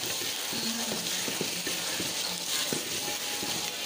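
Coriander powder tipped into baingan bharta frying in a pan, with a continuous close sizzle and a few soft scraping and stirring knocks. No one talks.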